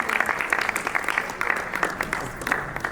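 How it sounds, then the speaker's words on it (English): Applause for a guest at the inaugural session of a summit, steady hall-wide clapping with scattered sharper claps over a murmur, no clear talk. "Let's have a big round of applause, ladies and gentlemen."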